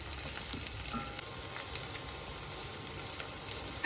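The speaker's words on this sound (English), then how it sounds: "In a kadhai, add oil, add the onion, stir the onion for 1 to 2 minutes" Onion frying in oil in a kadhai, a steady close sizzle with faint stirring scrapes throughout and no talk.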